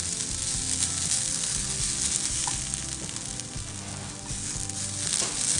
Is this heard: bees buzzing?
no